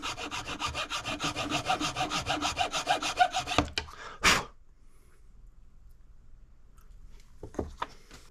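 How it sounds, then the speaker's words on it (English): A brass-fitted engine cover from a 2003 Sea-Doo GTI RFI is ground flat by hand in quick, rhythmic back-and-forth rasping strokes, about four per second for several seconds, then a scrape, followed by near silence with faint handling noises. "I am going to grind this flat."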